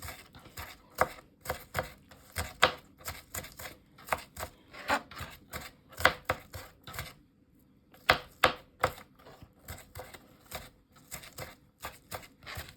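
A knife chops ingredients finely on a cutting board for Japanese-style hamburger steak, rapid steady knocks in a dense rhythm with a brief pause partway, close and fairly loud, no talking.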